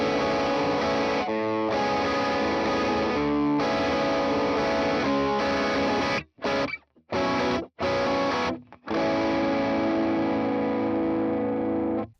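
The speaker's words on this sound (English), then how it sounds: "So here's how it originally sounded with some distortion on it." A distorted electric guitar riff plays loud and sustained, with chugging chords, a few abrupt stops and choppy staccato hits midway, then a long ringing held chord.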